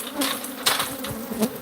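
An angry swarm of bees hums steadily at close range, loud and continuous, with individual insects swelling louder as they pass by.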